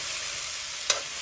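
A pan of moringa (drumstick) leaves sizzles continuously as they fry Rayalaseema style, a dense even hiss broken by a single short scrape of a spoon against the pan toward the end.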